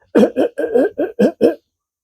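A voice imitates a sputtering Harley-Davidson engine with a Screaming Eagle Holley carburetor, seven quick, choppy bursts in an uneven rhythm, close and loud, then silence.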